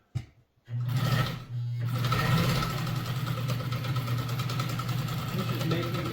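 A Pfaff 50010 sewing machine stitching a diamond pattern starts up after a short pause and runs with a steady, close, whirring hum and rapid mechanical chatter that holds even throughout.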